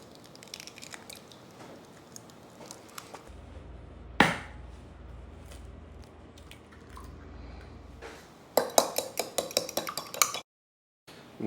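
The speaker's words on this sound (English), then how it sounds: "Then I need to beat up 3 large eggs." Three large eggs are beaten in a bowl, heard as soft close clicks and taps, then a quick run of sharper, louder whisking taps near the end before a brief silence.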